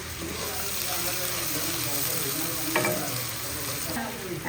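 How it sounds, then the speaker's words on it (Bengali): Onions frying in a pan with whole garam masala spices, bay leaf and star anise for a brain curry, a steady close sizzle with occasional stirring scrapes throughout. "এখন পেঁয়াজ দিয়ে দিব এগুলো ব্রাউন হওয়ার পরে"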